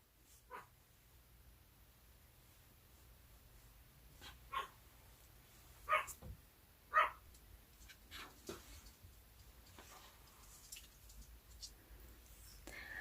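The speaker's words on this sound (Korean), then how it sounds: "제가 방에서 막 혼잣말 하고 있으니까 저희 집 강아지가 막 짖다가 저한테 왔어요." A pet dog indoors in a room gives a handful of scattered short barks, two of them louder near the middle, set against a quiet background with faint clicks.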